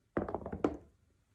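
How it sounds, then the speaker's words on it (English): Die rolled during a tabletop play-through of The Alamo Final Assault board game: a quick run of close, light clattering knocks and taps on a hard surface lasting under a second, ending in one sharper hit. "to roll a die"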